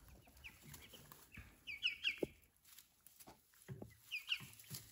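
Young Ameraucana chickens cluck softly and give a few high chirps in a garden setting. The bursts are quiet and intermittent, spread across the moment, with no voices.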